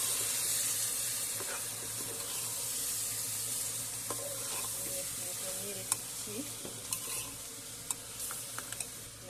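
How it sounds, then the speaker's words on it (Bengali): Rice frying in a pot with browned onions, a dense steady sizzle and hiss under intermittent stirring scrapes, with a few sharp utensil knocks near the end. "আমি এখন এখানে চাল নিয়েছি 3 পোয়া, আমি এটা এখন ভেজে নিব।"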